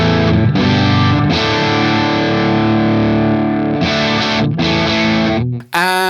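Distorted electric guitar through a Two Notes Torpedo blended with an SM57 microphone, playing loud sustained chords and held notes with a few brief breaks, alone without talk.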